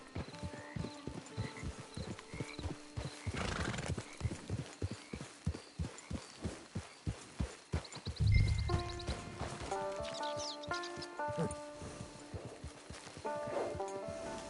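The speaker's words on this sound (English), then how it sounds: "It's your horse." Horse hooves clop in a steady walking rhythm in Red Dead Redemption 2 Online, close and clear for several seconds. Partway through comes a snorting or whinnying burst, then the clopping continues under tonal game sounds.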